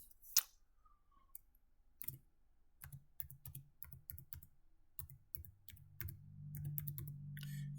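Bursts of close, crisp clicking as a password is typed on a computer keyboard, irregular taps in quick clusters with short pauses, ending in a faint low hum.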